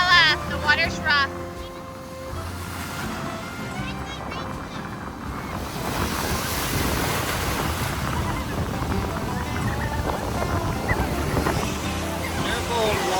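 Rough ocean surf rolls onto a beach as a continuous broad wash and rumble with wind buffeting the microphone, rising after a few seconds of music-like tones at the start.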